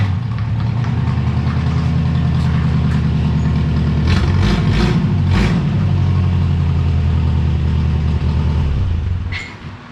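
A car's engine runs loudly and close up, with a steady rough idle and some brief revving in the middle. The car is broken in half and waiting to be welded, and the engine cuts off near the end.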